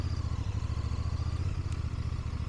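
A 2025 Royal Enfield Bear 650 is ridden slowly over cold, leaf-strewn pavement. The engine gives a steady, close, throbbing low drone with a regular pulsing beat, loud and alone, with no speech.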